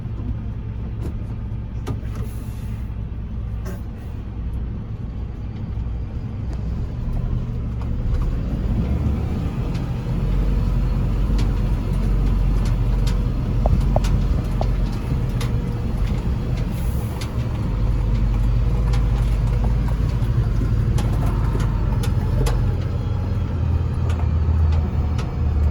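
Firefighters' four-wheel-drive vehicle crawling over rough off-road terrain on a training ground, a steady low engine drone with rattles and creaks, fairly close and with no voices.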